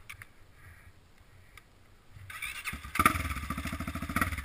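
A motorized rail bike's engine starts and then runs at a rapid, loud putter, after a few seconds of quieter handling noise.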